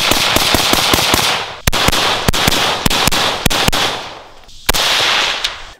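Rapid 5.56 rifle fire through a HuxWrx OSS suppressor, a fast string of sharp cracks followed by several spaced single shots, loud and close with a harsh, unmuffled bite.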